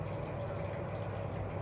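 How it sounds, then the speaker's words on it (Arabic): Water poured in a small amount onto date molasses, a soft steady splashing trickle heard up close and alone for a moment. "هنا انا عندي دوت ده، هحط عليه شويه ميه صغيرين"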